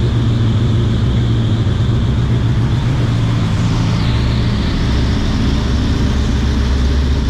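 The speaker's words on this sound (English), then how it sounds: "Just keep on revving it just for fun." A Hayabusa-engined turbocharged KE10 Corolla runs hard on a dyno, its engine holding a loud, steady high-rpm roar throughout with no talk over it.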